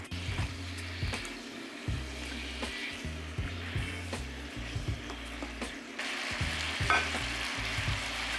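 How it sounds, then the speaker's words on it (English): Pork ribs are stirred through a bubbling honey garlic sauce, a continuous sizzle under rhythmic scraping and clacking of a spoon against the pot, with a low mechanical hum in the background and no voices. "I'm gonna start mixing the pork ribs into the sauce."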